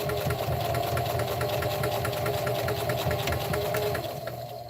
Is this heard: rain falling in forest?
no